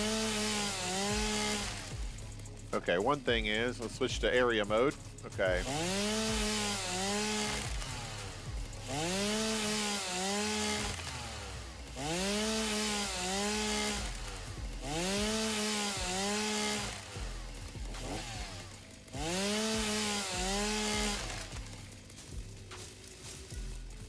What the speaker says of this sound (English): Let's get our chainsaw out and clear the space.